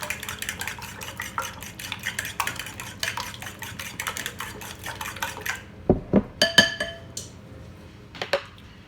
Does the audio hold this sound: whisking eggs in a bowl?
yes